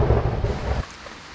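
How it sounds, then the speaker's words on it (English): Torrential rain from a thunderstorm beside a river pours down as a loud, dense roar, then drops abruptly to a much quieter, thinner patter partway through. "Wow, it's torrential right now."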